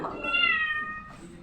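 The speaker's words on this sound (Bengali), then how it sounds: "কোন বিড়াল কান্দে ম্যাও ম্যাও করে?" A cat meows once at a veterinary clinic, a close, drawn-out wavering cry lasting about a second, followed by faint background murmur.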